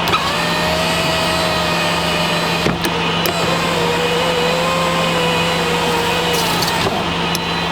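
The electric window motor of a Ford Fiesta ST150 whirs steadily and loudly at close range, a sustained mechanical drone with a faint rising whine and a couple of sharp clicks as the glass travels.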